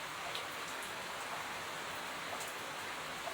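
Rain falling on an eggplant garden, a faint, even hiss of drops on leaves and soil, steady and unbroken throughout without any voices.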